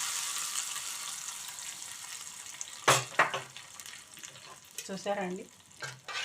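Tempering (talimpu) frying in a pan for a bottle gourd and dal dish, a steady hiss of sizzling oil with a sharp burst as ingredients drop in, followed by stirring scrapes and clatter, with brief talk near the end.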